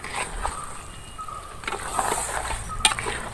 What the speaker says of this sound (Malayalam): ഇനി ഇത് നന്നായിട്ട് ഇളക്കി യോജിപ്പിക്കാൻ പോവുകയാണ്.